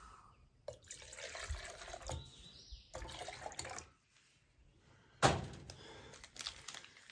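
Water pours into a cup to mix instant Kopiko coffee at an outdoor camp cooking setup, with bursts of trickling and splashing broken by pauses and a sharp knock near the end, heard alone without speech.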